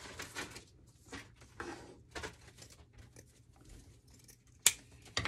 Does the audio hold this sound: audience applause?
no